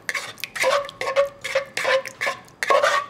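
A utensil beats salt and an egg together in a bowl, making a quick, steady series of clinking, tapping strokes, close and clear with no voices.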